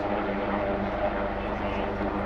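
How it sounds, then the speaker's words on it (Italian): A twin-engine rescue helicopter with two 1532-horsepower engines hovers low over the sea at an air show, a loud, steady rotor and engine roar filling the whole span without a break. "2 motori da 1532 cavalli sostengono tutto l'elicottero sulla superficie dell'acqua"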